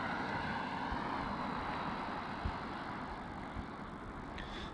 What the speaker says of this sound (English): Touching down there on runway 16, we have Virgin Australia flight VA736 from the Gold Coast